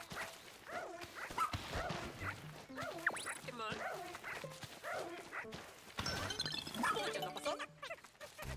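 A dog in the video game Pikmin 4 yips and barks in short bursts amid game music and effects, with a voice talking over much of it.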